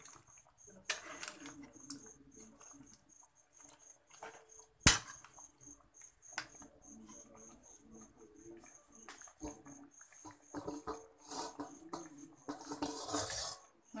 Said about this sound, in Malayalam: അടച്ചു വെച്ചിരിക്കുന്ന ചിക്കൻ കറി ഇടയ്ക്കൊന്ന് തുറന്നു കൊടുത്തിട്ട് നന്നായിട്ടൊന്ന് ഇളക്കി കൊടുക്കണം